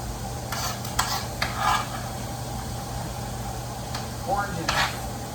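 Bell peppers tipped into a hot pan of onions for vegan chili, with a soft sizzle and stirring scrapes in short bursts over a steady kitchen hum.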